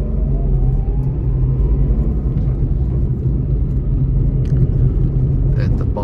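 Trucks rolling past on a highway, heard from inside a Renault Kwid as a steady, loud low road rumble and engine drone that holds throughout, with a person talking over it.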